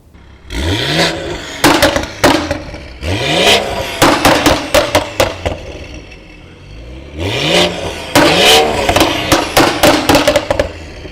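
A tuned BMW X3 M40i engine revs hard several times, each rev followed by sharp crackling exhaust pops and bangs like gunshots, loud and close.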